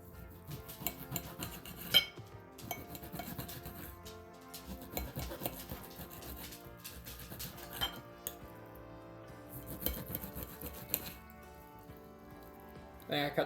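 A blunt knife scrapes and saws through steak on a board for a sandwich in a home kitchen, with faint rasping strokes and light clinks of utensils, quiet and close under occasional talk.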